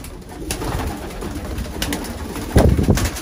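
Pigeons in a breeding loft coo steadily and close by, with soft wing flutters and shuffling, and a louder burst of cooing and movement near the end.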